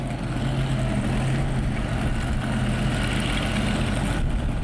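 A 1,200-horsepower modified tractor puller with a 462 big block Chevy engine idles at a pulling competition, a loud, steady, deep rumble throughout with no talk.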